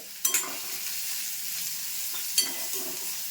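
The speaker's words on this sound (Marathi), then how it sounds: "आता कांदा असा ना थोडासा मऊ होईपर्यंत परतून घ्यायचा" Onion sautéing in hot oil, a steady close sizzle broken by two sharp stirring scrapes of a spatula in the pan, with no voices.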